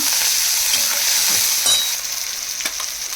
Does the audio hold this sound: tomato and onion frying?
yes